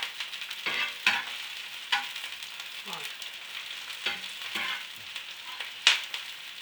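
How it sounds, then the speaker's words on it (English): Rava dosa fries in a hot pan with a steady sizzle punctuated by sharp pops and crackles at irregular intervals, with a brief word spoken once. "when you start frying them, it's just like popping like that"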